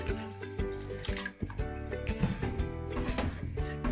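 Water pours into a cooking pot while making chicken dum biryani, a continuous splashing, gurgling stream heard close and fairly quiet.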